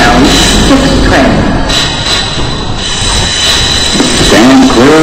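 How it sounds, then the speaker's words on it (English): A Brooklyn Bridge-bound 6 train on the New York subway runs through a station, loud and close, with wheels squealing and rumbling on the rails at the start and again near the end. "This is a Brooklyn Bridgebound 6 train."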